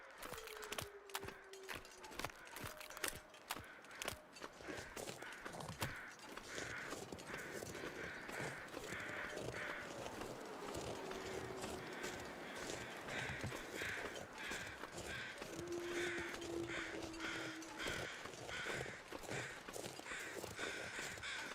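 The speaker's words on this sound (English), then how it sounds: "I hear the crows." In a snowy survival video game, crows caw repeatedly in the distance over a steady wind-like ambience, with a run of rhythmic crunching footsteps near the start and no talking.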